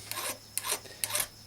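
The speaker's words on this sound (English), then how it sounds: "I'm just going to chamfer a little, put me just a little chamfer on this to help get that started through." A hand file rasps a small chamfer onto the edge of a Volkswagen 1600 wrist pin bushing, three quick, evenly spaced scraping strokes, close and crisp.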